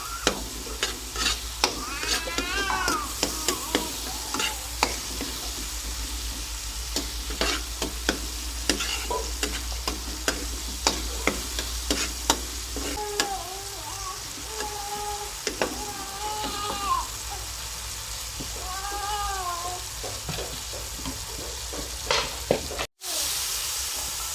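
Beef pieces frying in a karahi with softened onions and tomatoes, village-style cooking: a steady close sizzle runs throughout, broken by repeated scraping and clattering stirs of a utensil against the pan, with no talking.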